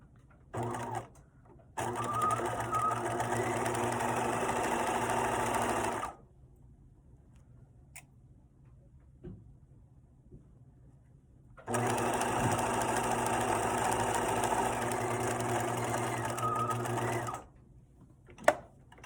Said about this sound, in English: I'm going to sew a 1/4 inch seam, which is the edge of the foot to the edge of the fabric